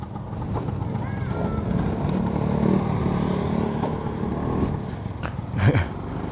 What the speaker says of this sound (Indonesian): Pakai Vespa klasik ini,